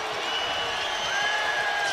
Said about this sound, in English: You hear the Iowa State crowd as they've cut it to 7